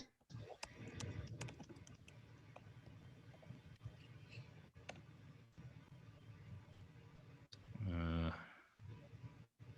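Quick bursts of computer keyboard typing clatter at close range, a run of clicks followed by pauses and a few isolated key taps.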